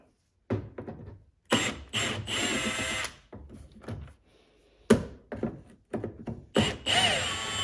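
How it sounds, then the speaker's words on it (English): A power drill backs Phillips screws out of the taillight on a Mercury Mariner (Ford Escape), several close, loud whirring bursts separated by short silences and small clicks of handling. "They're Phillips, so let's go ahead and take those out now."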